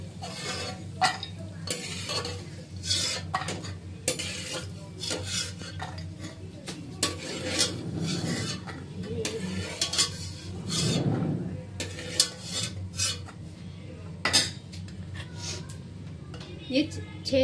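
Chicken pieces for korma fry in oil with a soft sizzle under repeated clinks and scrapes of a utensil against the pan, while someone talks over the cooking.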